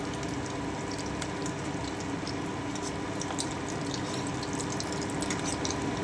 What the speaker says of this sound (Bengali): আমি উপর থেকে একটু গরম তেল দিয়ে দিচ্ছি।